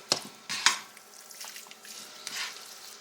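Ground beef browning in a pan, with a couple of sharp utensil scrapes and clinks against the pan over a soft sizzle, close and fairly quiet.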